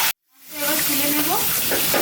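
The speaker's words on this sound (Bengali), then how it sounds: "ইলিশ মাছের মাথাটা তেলে চচ্চড়ি করবো।" Hilsa fish head sizzles steadily in hot oil in a pan after a brief silent gap, with a continuous hiss of frying and faint voice-like tones over it.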